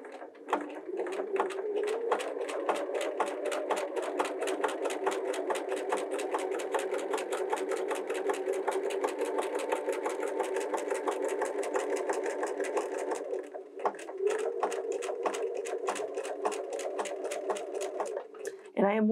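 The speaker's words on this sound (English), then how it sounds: "From here, we're going to sew that forward bead." A Bernina 325/335 sewing machine stitches a buttonhole bead, a fast steady needle rattle running close and continuously, pausing briefly before resuming, under a voice talking.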